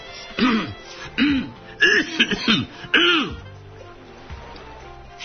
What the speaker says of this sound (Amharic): ጉሮሮውን ቶሎ ይጠርጋል